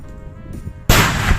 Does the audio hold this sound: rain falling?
no